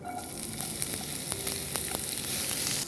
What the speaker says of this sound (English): Okay, so the oil is hot. Now to this we will add in onions.